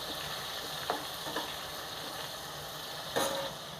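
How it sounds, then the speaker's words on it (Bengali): Garlic, onion and cubed capsicum fry in a pan for chili chicken, a soft, even sizzle with a few spatula scrapes and stirring knocks, quiet and without talk. "রসুনটা আমার ভাজা হয়ে গেছে।"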